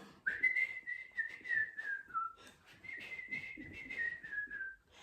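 A melodic whistle plays in a Botswana folktale about the Hare and the Hyena, two long sliding whistled phrases heard alone and fairly faint.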